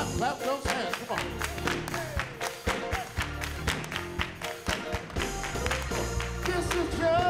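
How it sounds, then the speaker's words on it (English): A church congregation clapping along in rhythm during a lively worship song, steady handclaps layered over music and singing voices, loud and continuous throughout. "clap, clap those hands"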